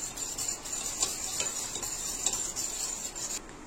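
A single egg is beaten briskly in a bowl for egg rasam, a steady run of quick whisking strokes that tick and scrape close by, with no voices.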